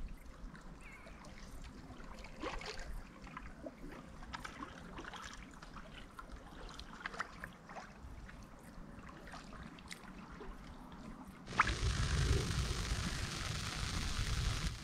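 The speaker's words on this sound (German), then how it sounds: "Hier kann man den Strom hören." Water of the Naab river flowing at a weir, a steady broadband rush throughout, growing louder and closer near the end as the microphone moves toward the current.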